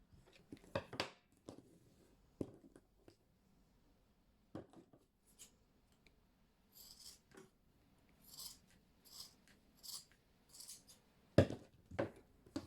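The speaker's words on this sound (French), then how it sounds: "Alors on prend de gros ciseaux qui coupent bien." Large, sharp scissors cutting crochet yarn strands for a pastel crochet bag: scattered, quiet snips and short rasping cuts in irregular bursts, with silent gaps between them and no speech.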